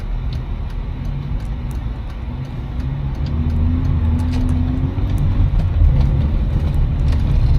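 A modified truck with a new cam and exhaust rumbles with a deep, loud engine note that builds as it pulls away and accelerates, with steady road noise and no talk.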